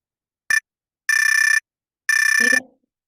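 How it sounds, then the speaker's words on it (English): A Zoom meeting timer bell signalling that time has expired: three short bursts of bright electronic ringing, a brief first ring then two longer trills, loud and clear against silence. "when the time is expired, a bell will ring, which sounds like this."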